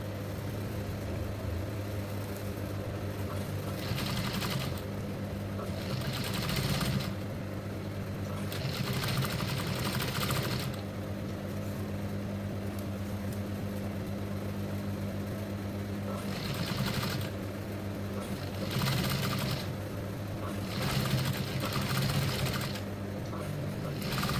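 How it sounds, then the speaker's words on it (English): An overlocker stitches stretchy fabric for a bodycon dress, its motor chattering steadily in repeated bursts with quiet pauses between runs, faint and close. "I've overlocked the front, the shoulder as well."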